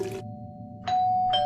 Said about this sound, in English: When the doorbell rang one more time.